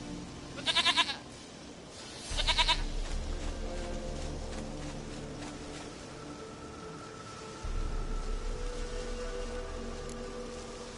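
Goat bleating in the Witcher 3 video game: two short, wavering bleats close together near the start, followed by a steady low ambient rumble with faint background sounds.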